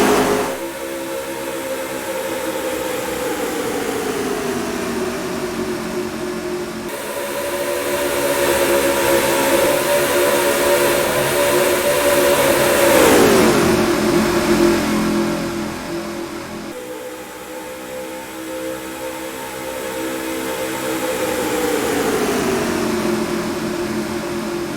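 Race car engines roar around a superspeedway in the NASCAR 4 video game, a loud sustained drone with pitch sweeping down and back up as cars draft along the back straightaway, swelling toward the middle.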